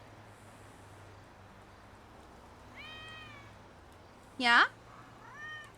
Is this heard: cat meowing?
yes